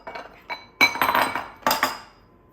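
Ingredients for s'more cookies are scraped into a bowl with a utensil, giving a few close clinks and scrapes in short uneven strokes, with no talking.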